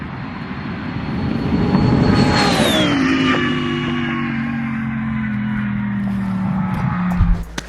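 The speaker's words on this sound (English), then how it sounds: "Watch how this car flies past the finish line" A yellow twin-turbo Lamborghini Huracan races past the finish line, its loud engine roar rising and then dropping sharply in pitch as it passes, before fading into a steady receding drone.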